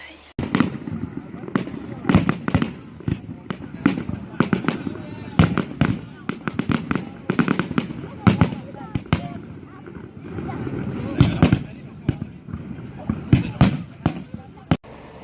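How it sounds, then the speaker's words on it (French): Fireworks boom and crackle over the Vieux-Port in a rapid, irregular series of distant bursts, with a crowd's voices and chatter underneath. "on va voir les feux d'artifice sur le Vieux-Port dans ma ville"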